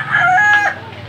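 A fighting rooster of a sinibalang color crows once, loud and close, a short strained call lasting under a second.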